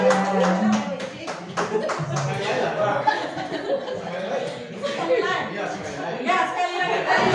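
A group claps together in a Kumang clap routine, scattered hand claps and taps mixed with chatter and chuckling from the crowd in a room.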